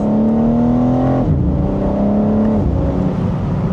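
Exhaust of a 2026 BMW M4 Competition xDrive pulls hard under acceleration in second gear, the engine note climbing steadily, dipping briefly at two shifts, then rising again, loud and close.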